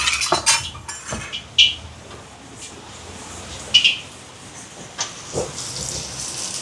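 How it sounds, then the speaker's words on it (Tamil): Prawn rolls frying in hot oil give off a soft, airy hiss, broken by scattered metallic clinks of utensils and a few sharper pops, fairly faint and intermittent. "இங்கே எண்ணெய் சூடாயிட்டு இது பொறிச்செடுக்க போகிறேன் பாருங்கள்"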